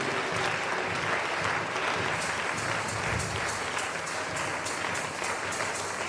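A church congregation applauds steadily, a dense, even wash of clapping hands from many people that holds at a constant level throughout.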